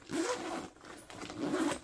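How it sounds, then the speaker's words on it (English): A backpack zipper is pulled closed in two quick close-up zips, each a short rasping burst separated by a brief pause. "Let me zip this up."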